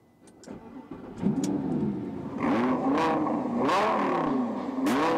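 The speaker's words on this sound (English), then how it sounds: "Ah, the sound of an Italian tuned V10." An Italian-tuned V10 car engine cranks and catches, settles into a rumbling idle, then gives several sharp revs that rise and fall, close and loud with no talk over it.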